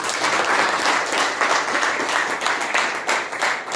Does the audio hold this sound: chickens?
no